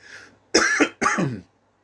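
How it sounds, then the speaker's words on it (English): Two harsh, forceful bursts of throat clearing and coughing, close and loud, with a brief pause between them. "before I have a coughing fit"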